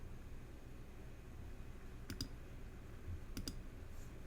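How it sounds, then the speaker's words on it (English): Two quick double clicks of a computer mouse, the first pair about midway and the second a little over a second later, sound faint and close over a steady low room hum with no talking. "Let me click on it."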